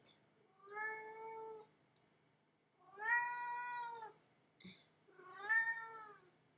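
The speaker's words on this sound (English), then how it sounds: "Okay, cat." A cat meows three times in a row, each call drawn out and clearly harmonic, loud and close, with short quiet gaps between them and no talking.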